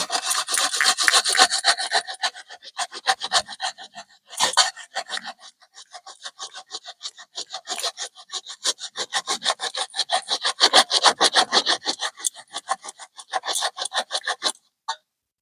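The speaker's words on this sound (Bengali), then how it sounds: "এইভাবে ঘষে নেব এইভাবে ঘষতে কিন্তু অনেক সময় লাগে" Banana plant root is grated by hand, rubbed back and forth in a fast, even rhythm of rasping scrapes that runs for several seconds, pauses briefly, then continues close up with no talking.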